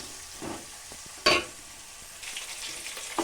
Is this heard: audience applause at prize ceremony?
no